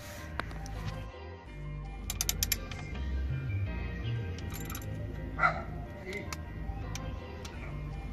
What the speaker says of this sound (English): I'm gonna get my ratchet, break this loose